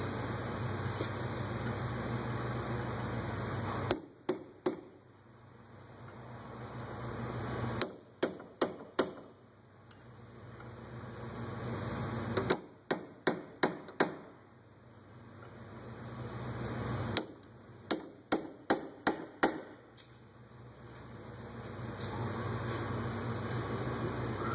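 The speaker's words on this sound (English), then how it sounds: "Then they want you to stake those with a hammer and a punch or chisel out in four directions" Hammer striking a punch to stake a lower ball joint on a 2009 Dodge Nitro, close sharp metallic blows in four quick clusters of three to five hits, separated by pauses over a steady background hum.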